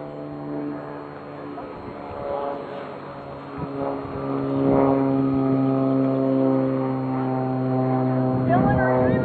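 A radio-controlled model combat plane drones steadily in flight at an annual combat event, its propeller giving a sustained buzzing tone that swells slightly, with people talking over it throughout.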